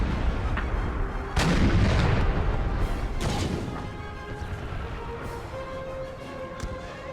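A howitzer battery fires in an American Civil War strategy game, with a few heavy booming shots close together early on, then rumbling echoes that fade into quieter background noise.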